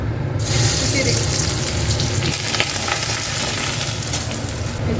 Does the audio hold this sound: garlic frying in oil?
yes